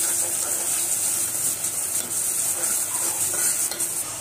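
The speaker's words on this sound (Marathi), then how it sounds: "चांगलं भाजून घ्यायचा मसाला" A spicy masala paste for katachi amti sizzles in oil as it is stirred, a dense steady frying hiss with soft, uneven scraping and occasional utensil clinks, up close and without voices.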